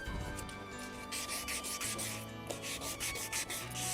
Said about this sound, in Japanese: 続いて800番、800番があったので800番で削っていきます